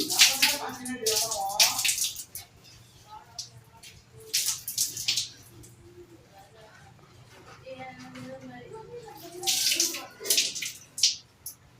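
Running water splashes in bursts as hands lather and rinse with soap, close up, with quieter pauses between the gushes and a voice speaking at times.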